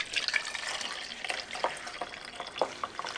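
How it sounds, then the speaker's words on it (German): Water is poured into a tomato-paprika paste sauce in a pan, giving a run of close splashes, gurgles and light sizzling bursts that come and go, without talking. "Dann etwas Wasser."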